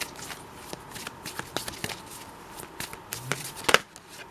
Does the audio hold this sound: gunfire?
no